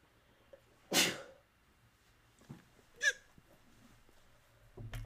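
A single sharp sneeze from a person indoors, loud against a quiet room, followed by a couple of softer breathy sounds.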